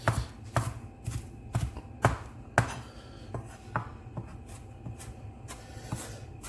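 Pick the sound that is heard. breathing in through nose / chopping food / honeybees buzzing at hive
chopping food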